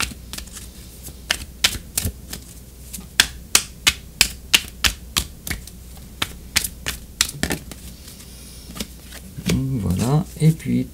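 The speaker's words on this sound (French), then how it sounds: "on va tirer une carte oracle" Oracle cards being shuffled with a run of sharp, rapid riffling clicks, then a softer rustle as a card is drawn; quiet speech lies beneath.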